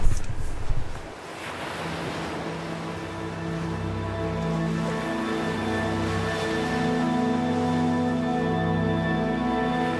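Ocean surf at Angel's Billabong, a natural rock pool on the coast of Nusa Penida, Bali, makes a steady wind-blown roar after an initial loud surge, with a faint tonal layer over it.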